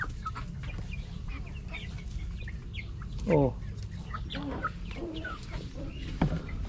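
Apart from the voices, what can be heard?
chickens clucking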